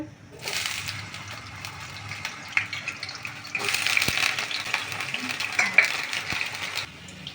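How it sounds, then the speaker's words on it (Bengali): Potatoes fry in hot oil for ghugni with a soft, crackling sizzle that swells in two longer bursts, punctuated by occasional pan knocks and stirring clatter. No one speaks. "প্রথমে একটু আলু দেব, আলুগুলো ভেজে নেব। তেল গরম হয়ে গেছে"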